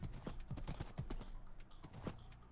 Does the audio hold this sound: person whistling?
no